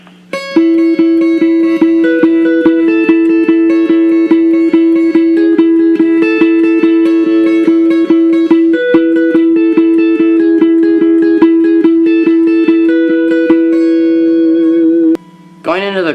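Electric guitar picks the verse riff of a song in a steady repeating pattern of sustained notes, loud and close, with no talk over it until a short gap near the end.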